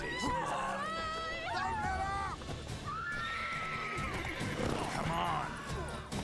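Horses in The Witcher 3: Wild Hunt neighing and whinnying in repeated loud, wavering cries, with hoof clatter and scuffling beneath and a voice speaking briefly amid the commotion.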